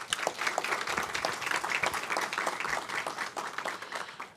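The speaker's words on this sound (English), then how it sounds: "You deserve a round of applause." Audience at a Samsung Innovation Campus coding and artificial intelligence graduation ceremony claps in sustained, dense applause, many hands overlapping into a lively, continuous patter.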